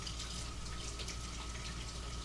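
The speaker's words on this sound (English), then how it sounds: "So, we're going to wash one more potato." Tap water runs steadily as a potato is washed under it, a faint, even hiss and splash with no pauses and no talking.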